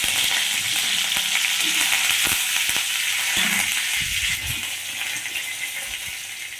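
Curry leaves and white cumin seeds fry in a little oil, a close, steady sizzle with crackles and scraping stirs throughout, easing slightly toward the end.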